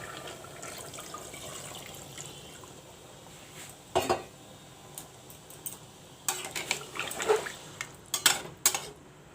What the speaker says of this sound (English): Now I will mix some water. Add some water to it.